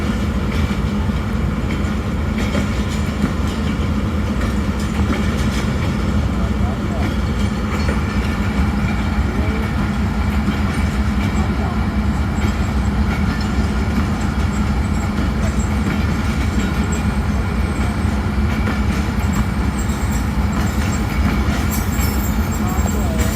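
Diesel locomotive idling during a technical halt with the Hazara Express at a station in Pakistan, a steady low rumbling drone held close and constant, with someone talking over it.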